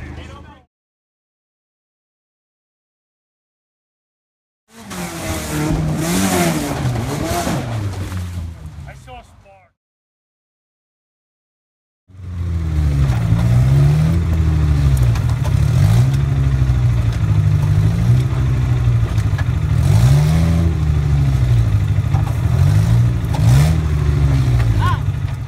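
An off-road vehicle revs hard in second gear on a rough trail test drive, first in a short loud burst, then a long steady rising and falling engine drone with clattering, while people talk over it.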